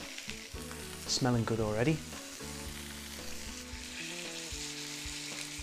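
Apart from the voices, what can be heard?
soy pork searing in a pan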